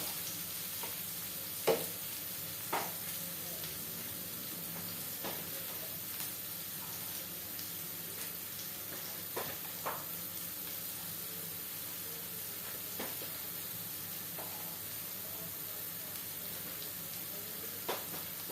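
Ginger and onion sauté in a pan for beef stripes, a faint steady sizzle with occasional stirring clicks and scrapes, quiet and continuous.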